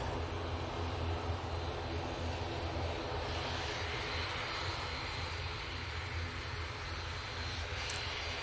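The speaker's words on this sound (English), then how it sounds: "They're going off to Belfast using the ATR 72." Continuous droning roar of an ATR 72 turboprop's engines at an airport, steady and fairly loud throughout with a broad rumbling low end, no voices over it.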